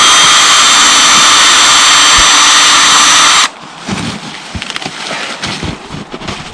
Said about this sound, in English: I will drill it into the tree.